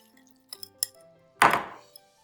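A few light clinks of a whisk against a bowl while a black pepper mixture is stirred, followed by one louder metallic knock and a fading ring, close and otherwise quiet.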